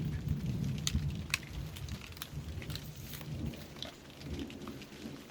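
Steady rain shower patters on surfaces nearby in a pear orchard, with scattered sharper drip impacts and a faint low rumble underneath.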